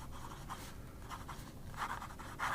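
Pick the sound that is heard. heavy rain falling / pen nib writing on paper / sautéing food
pen nib writing on paper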